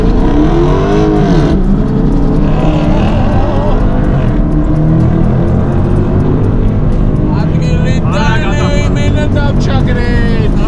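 A Dodge Challenger accelerates hard at a drag race in Rustavi, Georgia. Its engine roars loud and close, rising in pitch as it revs, while background voices run underneath.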